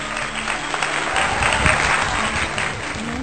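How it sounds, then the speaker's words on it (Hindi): A live audience claps steadily and densely for a singer at a Hindi Diwas poetry and song event. The applause is full and continuous for a few seconds, with no speech over it. "जोरदार तालियां"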